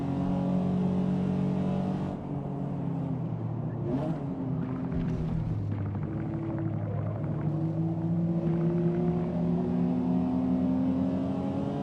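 A car engine in the Forza Motorsport racing game holds a steady, close droning note that swells and dips in pitch as it revs, continuous throughout with no talk.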